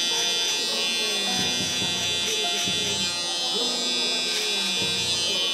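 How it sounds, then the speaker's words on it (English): An electric shaver buzzes steadily close to the skin while finishing a fade mullet haircut, its whine pulsing slightly as it passes over the head, with someone talking over it. "now we're gonna follow it up with our shaver just to take it a little closer to the skin"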